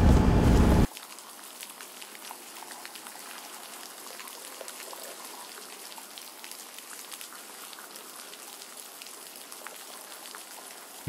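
Heavy rain falls on a wet, foggy morning outdoors during a hunting trip, a constant soft hiss with faint patters. It follows a brief loud burst of noise at the very start.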